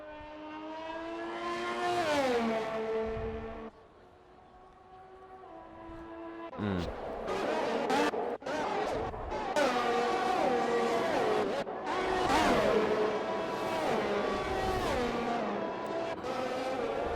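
Formula race cars in a racing video game on the Mexico circuit whine and rev loudly, with engine pitch sweeping up and down through gear changes as several cars pass close.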